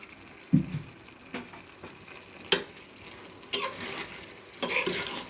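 Pre-boiled guchi baim eel going into a simmering curry with potato and eggplant: gentle frying sizzle broken by several sharp stirring and utensil clatters against the pot.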